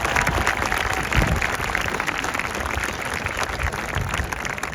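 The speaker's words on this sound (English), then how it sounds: "Audience, please join me in a round of applause for these servant leaders." A crowd applauds at an outdoor high school graduation ceremony on a field, producing dense, steady clapping at a consistent level throughout.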